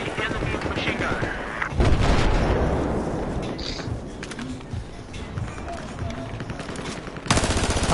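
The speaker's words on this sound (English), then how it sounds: "South of your location there appears to be enemy machine gunner." Rapid machine gun fire in Battlefield 4 gameplay, dense bursts of gunshots running continuously with other battle noise, loud and close throughout.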